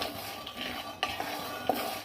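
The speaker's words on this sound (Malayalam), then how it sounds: "ഇനി നമുക്ക് ഈ കപ്പലണ്ടി ഒന്ന് വറുത്തെടുക്കാം" Raw peanuts are dry-roasted in a pan for masala kappalandi over medium heat, with quiet rattling and scraping as they are stirred and a few sharper clinks against the metal, no voices.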